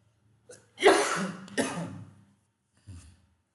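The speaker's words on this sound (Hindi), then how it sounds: "खांसी हो जा रहा है।" A man coughs and clears his throat during a computer networking lesson, two harsh close bursts followed by a softer short one, with no talk.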